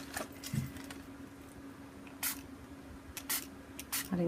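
A spray bottle mists water onto paper in a handful of short, sharp hissing spurts spaced irregularly, close and fairly quiet against a soft background hum.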